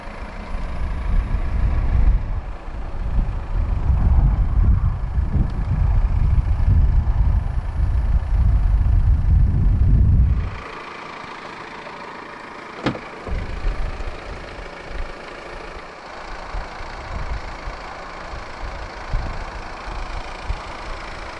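A 2016 Volvo XC90 2.0 D5 225 AWD Momentum diesel rumbles loudly for about ten seconds, then cuts to a much quieter, steady idle hum with a sharp click partway through.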